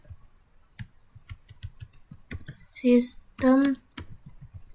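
Typing on a computer keyboard, a close run of quick key clicks in uneven rhythm with a few louder taps, interrupted twice by brief voiced sounds.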